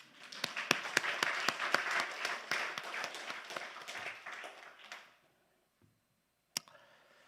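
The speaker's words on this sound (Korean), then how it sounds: "생뚱맞지만 박수 한번 쳐줘요" A church congregation at a Sunday morning service bursts into applause, with sharp individual claps over a dense clatter that fades out after about five seconds, followed by near silence and one late stray clap.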